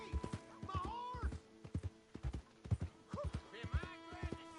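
Horse in the video game Red Dead Redemption 2 trotting with rhythmic clip-clop hoofbeats and whinnying several times, close and clear, with a voice speaking over it.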